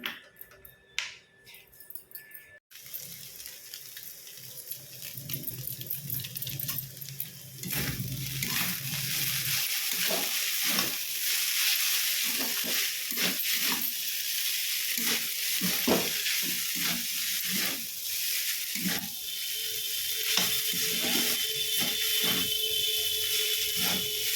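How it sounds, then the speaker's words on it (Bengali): Potatoes frying in oil in a kadai (wok), a continuous sizzle with crackling pops and stirring clicks, steady and fairly close after a few seconds of quieter handling at the start. "এখন আলু আর এটা একটু ভেজে নিই।"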